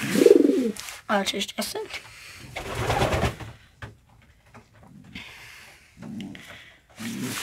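Pigeons coo at a nest with eggs, set on straw in a coop; soft, low, throaty coos come through near and fairly loud, mixed with someone talking and brief rustles.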